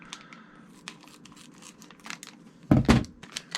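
Plastic packaging around a MAP sensor for a Speeduino NO2C engine-management board being cut open: faint crinkling and small snips, then a louder burst of tearing and crunching plastic near the end, close by.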